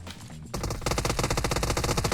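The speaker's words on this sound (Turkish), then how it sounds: "silah sesi çok güzel" After a quieter opening, sustained machine gun fire in PUBG Mobile erupts in quick, even bursts, loud and close, continuing steadily to the end.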